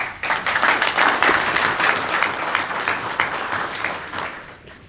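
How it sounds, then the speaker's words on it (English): A reception crowd honoring a Pak-US trade expo delegation in Houston breaks into loud, dense applause, sustained clapping that stays strong before easing slightly at the end. "they deserve a thunderous applause"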